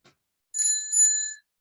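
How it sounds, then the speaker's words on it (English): A timekeeping bell at a conference opening ceremony rings out alone, bright and clear, with two quick strikes that blur into one sustained ring before silence. "All sessions which are timed will have a bell ring like"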